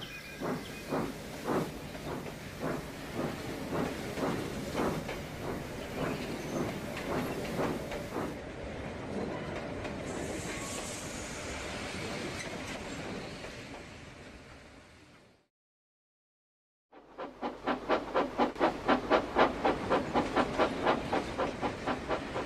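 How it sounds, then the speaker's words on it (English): Steam train chuffing in rhythmic puffs with hissing steam, fading out into a few seconds of silence before a faster, louder burst of chuffs returns. "All I hear is chuffing."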